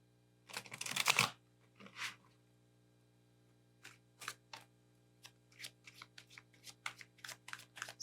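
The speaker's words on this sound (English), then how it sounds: "I'll shuffle this deck once." A loud riffle of playing cards, then a quick bridge flutter, followed by a series of soft card taps and snaps, close up.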